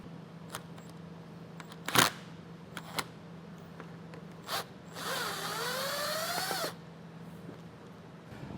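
A T15 Torx bolt removed from a car's front fascia with a power tool during base plate installation: a few sharp clicks and knocks, then a rising, whirring drill run of about two seconds, fairly close and with no talk.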